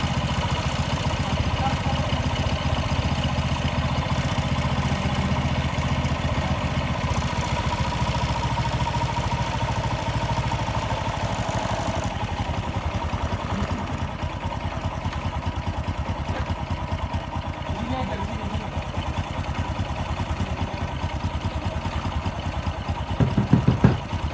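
Honda Supra X 125 motorcycle engine idling after carburettor servicing, a steady close putter with a faint clatter throughout, ending in a brief burst of revving.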